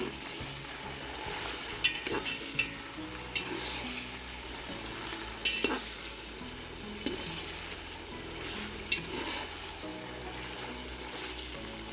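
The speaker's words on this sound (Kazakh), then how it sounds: "Бұл пиязымызды қызартып қуырып аламыз." Onions fry in a pan for plov, a soft steady sizzle punctuated by sharp clinks and scraping of a utensil against the pan, fairly close and moderately quiet.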